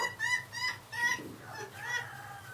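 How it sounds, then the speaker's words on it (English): Chickens cluck and cackle close by in short repeated calls over a low background hum. "chickens love to scratch around"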